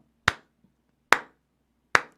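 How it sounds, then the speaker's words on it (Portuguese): Three sharp, isolated hand claps, evenly spaced about a second apart, close and crisp against near silence. "dá uma bater uma palminha pro cara aqui, um aplauso"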